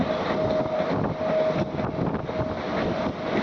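The Tungabhadra Express rushes along at speed, heard from on board as a loud continuous rumble and rattle mixed with gusty wind noise.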